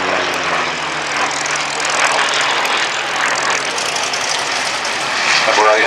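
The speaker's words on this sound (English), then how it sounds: ".2480 horsepower Centaurus engine." A Hawker Sea Fury's 2480-horsepower Centaurus piston engine drones loudly and continuously as the aircraft passes over an air display. The roar stays steady, swelling slightly toward the end.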